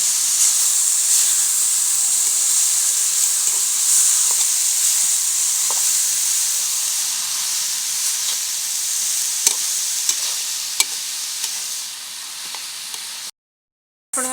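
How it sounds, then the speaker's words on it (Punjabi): Grated carrots roasting in ghee for gajar halwa, giving a steady, close, even sizzle with faint stirring scrapes, continuous for about thirteen seconds before cutting off briefly near the end. "ਇਹਨਾਂ ਨੂੰ ਆਪਾਂ ਚੰਗੀ ਤਰ੍ਹਾਂ ਘਿਓ ਚ ਭੁੰਨ ਲਾਂਗੇ"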